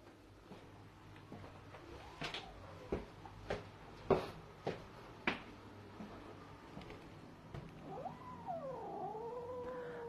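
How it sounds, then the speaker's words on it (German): A small kitten meows repeatedly in a steady string of short, fairly close calls over low room noise, ending in a longer, wavering cry. "Das ist so eine kleine flinke Katze."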